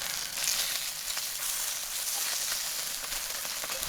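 Spam slices frying in a smoking-hot pan for a Spam musubi, a steady, dense sizzle with crackling pops running unbroken throughout, close and fairly loud with no talking.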